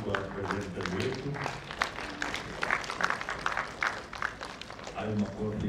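Applause rises from the audience at a lawyers' annual conference for a presenter, a dense patter of many hands clapping at a moderate distance while a voice speaks over it.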